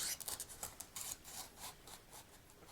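A blade cuts into a large monstrose San Pedro cactus for propagation, giving a series of quiet, rhythmic scraping and crunching strokes close up, with no talking.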